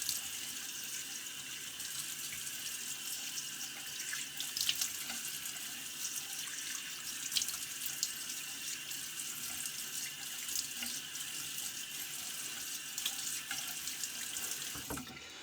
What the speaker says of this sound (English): let me get a rinse